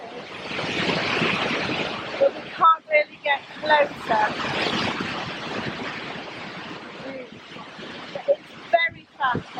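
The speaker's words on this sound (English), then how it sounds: "These are the middle falls." Fast-moving water of the middle falls on an English countryside outing, a steady broadband rush filling the whole clip, with people talking intermittently over it.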